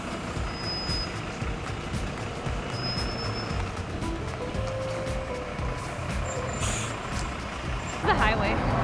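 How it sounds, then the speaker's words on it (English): An articulated city bus in Paris rumbles past in heavy street traffic, its deep engine drone steady and close, with a few high beeps and a sharp burst of air-brake hiss near the end. "Check this articulated bus"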